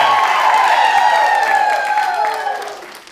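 A Friday studio audience claps and cheers loudly and steadily at close range, with whistles rising over the applause before it fades toward the end.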